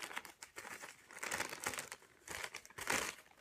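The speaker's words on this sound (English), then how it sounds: "I can zip up my bag and I'm good to go." Clear plastic bag holding magnetic micrometeorite material, handled and crinkled up close with a few bursts of rustling, ending with the bag being zipped shut.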